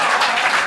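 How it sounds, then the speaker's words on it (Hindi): Audience applause at a live shayari poetry performance, a brief dense burst of clapping from a crowd, loud and continuous throughout. "ये जो तालियां बज रही हैं टीआरडी के लिए"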